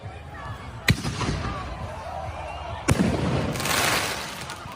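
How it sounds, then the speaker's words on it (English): Two sharp firework bangs burst about two seconds apart at a street protest, over a constant wash of crowd noise and distant voices. "It looks like another explosion here. Another firework is about to be lit."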